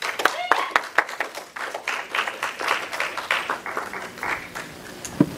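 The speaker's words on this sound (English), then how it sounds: "a big round of applause for Ryan Indigo Warman" Audience clapping to welcome a speaker at a talk, a moderate burst of applause from a modest crowd with voices and cheers mixed in, sustained before fading slightly.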